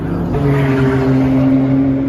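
Mitjet 1300 race car running on a track during a practice session, a steady loud engine drone with a held tone and slight rise in pitch, close and continuous.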